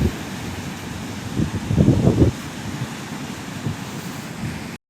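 Sea waves wash in a steady roar with a swell of surf in the middle, heard alone and fairly close, with wind buffeting the microphone.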